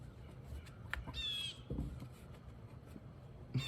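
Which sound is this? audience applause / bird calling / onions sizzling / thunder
bird calling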